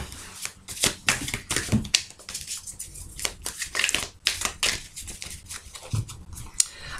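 Tarot cards are shuffled by hand in a run of quick, crisp riffling and slapping bursts, close and fairly loud, with a faint voice now and then in the background.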